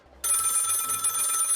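A telephone in the Lil Guardsman game starts ringing abruptly after a short quiet pause, a bright, continuous electronic trill, loud and close, with no voices.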